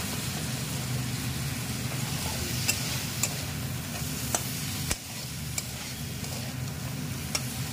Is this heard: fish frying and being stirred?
yes